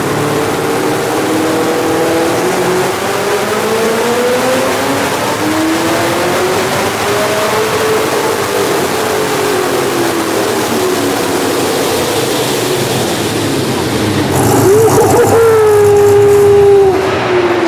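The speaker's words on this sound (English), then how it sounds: "this thing's making some power" A tuned, boosted Ford Mustang engine revs hard on a dyno with a loud continuous roar whose pitch rises and falls, then surges to a sharp high-pitched peak near the end.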